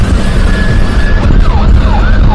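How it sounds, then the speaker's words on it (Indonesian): An ambulance siren wails loudly on the road near Bandung, heading toward Garut, its rising and falling tone sweeping steadily over heavy traffic and engine rumble. "Ketemu dengan ambulan Rumah Teduh Bandung guys, mengarah ke arah Garut, membawa pasien sepertinya."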